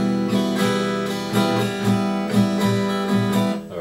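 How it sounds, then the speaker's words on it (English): Guitar chord pressed correctly and strummed in a steady repeated rhythm, all strings ringing clearly and full; close-up playing alone, no speech. "But if I press harder and press correctly,"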